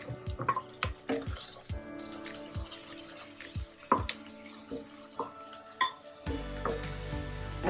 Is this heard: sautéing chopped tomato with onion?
yes